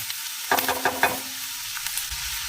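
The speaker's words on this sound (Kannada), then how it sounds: "ಈರುಳ್ಳಿ ಫ್ರೈ ಆದ ನಂತರ ಇದಕ್ಕೆ ಸ್ವಲ್ಪ ಕಾಳು ಮೆಣಸಿನ ಪುಡಿ ಹಾಗೆ ಸ್ವಲ್ಪ ಅರಿಶಿಣದ ಪುಡಿನ ಸೇರಿಸ್ಕೊಳ್ಳೋಣ" Onion frying in a pan, with pepper powder and turmeric powder being added: a soft sizzle broken by a quick cluster of stirring scrapes and clatters, then a quieter sizzle, close by and with no talking.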